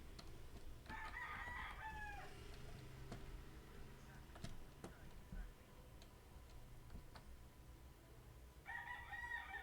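Soundboard rooster crowing, one cock-a-doodle-doo near the start and another beginning at the end, faint and set against low background noise with scattered ticking clicks.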